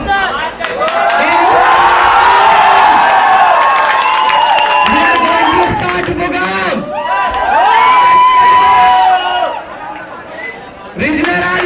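A crowd of students at a college festival cheering and shouting for a first-year singer, loud and sustained with a brief dip, mixed with voices calling out.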